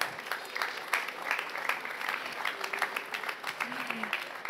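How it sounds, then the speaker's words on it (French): Festival talk audience applauds three panel speakers: a dense, moderately distant patter of many hands clapping continuously, with a brief murmur of voices underneath. "Je pense qu'on peut les applaudir."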